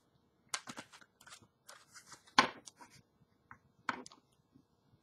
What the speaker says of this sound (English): Just going to give these a good shuffle.